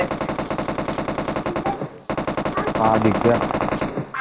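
Rapid automatic gunfire from a video game, sustained bursts of machine-gun fire with a short gap before it resumes, loud and close, while someone speaks briefly over it.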